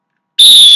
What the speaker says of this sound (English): the whistles that I had in this post came from the floor hockey game that I played last night.